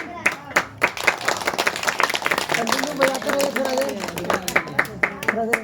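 Audience clapping at a spiritual discourse on serving one's parents: sharp, scattered claps burst out at the start and again near the end, with a voice talking through the middle.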